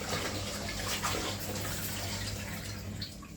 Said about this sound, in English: I'm going to go ahead and rinse the pork off again